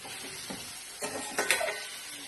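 Vegetable curry simmering and sizzling in a pan, a soft steady hiss with a few faint scrapes and stirs of a spoon, quiet and close with no voices.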